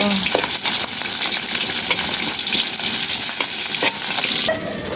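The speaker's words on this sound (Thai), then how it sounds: "พี่อ้อยทอดปลาหมึกค่ะทุกคน ทอดปลาเสร็จทอดปลาหมึก" Squid frying in hot oil makes a dense, steady sizzle and crackle, close up, with no voices over it.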